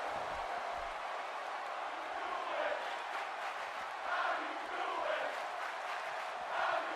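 A large video game arena crowd at a WWE wrestling ladder match roars and cheers continuously, a dense wash of voices swelling in waves throughout.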